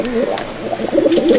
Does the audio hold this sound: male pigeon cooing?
yes